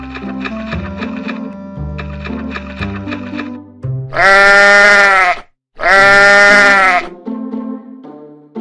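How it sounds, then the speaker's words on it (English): Sheep bleating in two loud, long, wavering calls with a short gap between them, set between stretches of soft children's background music. "Sheep."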